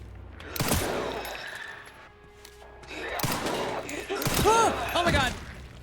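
Gunfire from a gun in a video game comes as a few sharp bursts spread through the clip, mixed with other game effects and tonal sounds, with people talking over them.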